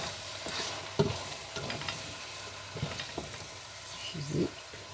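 A ginger mixture with cumin and turmeric fries in a pan, a close steady sizzle broken by several soft scraping stirs and low clunks of the utensil against the pan.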